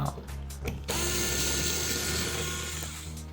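Electric screwdriver or drill whirring steadily as it backs screws out of the wing of a Turbo Timber Evolution RC plane, with a few short bursts first, then one long continuous run, close and fairly loud.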